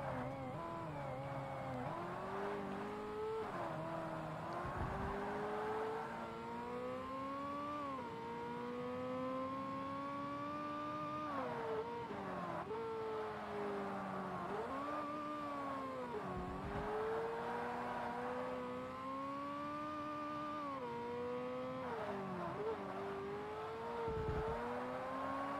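Ferrari 360 Modena engine in Forza Motorsport, a continuous high-revving wail rising and dropping through gear changes, with brief dips at each shift across roughly 25 seconds, steady and prominent with no talk.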